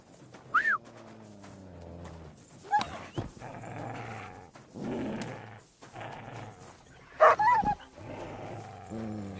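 Mutt the dog barking in Kingdom Come Deliverance 2, a few sharp barks spaced across the stretch over hoof clip-clops and rustling movement, near and fairly loud.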